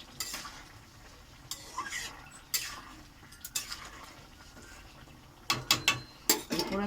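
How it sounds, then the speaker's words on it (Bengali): A spoon stirs a mixed vegetable curry just sweetened with sugar, making intermittent metallic scrapes and knocks against the pot over a faint simmer, with a quick cluster of clinks toward the end. "একটু নেড়ে চেড়ে দেবো"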